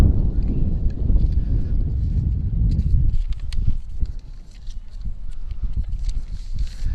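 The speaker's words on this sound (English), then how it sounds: "And it is windy up here" Heavy wind at a track meet, the Hub City Relays in Alice, Texas, buffets the microphone in a loud, low roar that eases after a few seconds, leaving gustier rumbling and scattered thumps.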